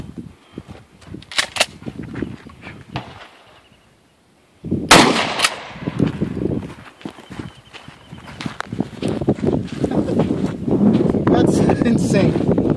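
A 12 gauge shotgun fires a Ranger low recoil 2 3/4 inch rifle slug outdoors. One sharp, loud blast breaks a moment of silence, followed by gusty wind noise and people talking.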